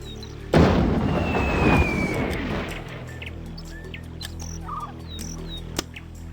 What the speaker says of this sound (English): Enemy sighted! Open fire!